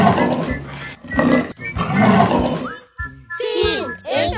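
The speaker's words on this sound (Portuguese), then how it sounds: "Isso mesmo, esse é o som de um leão." Lion roaring in a children's animal-sounds lesson: several deep, rough roars in quick succession, loud and close, followed by a brief burst of higher chirpy voice sounds at the end.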